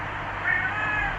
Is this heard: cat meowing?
yes